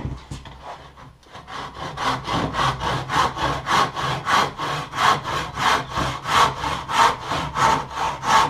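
A hand saw cuts through a wooden strut for a large geodesic dome, with a short pause and then fast, even back-and-forth strokes, loud and close.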